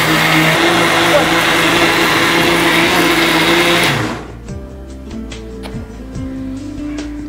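A mixer grinder loudly grinds rice and urad dal into batter, a dense steady whir for about four seconds before it cuts off. Quieter kitchen sounds and speech follow.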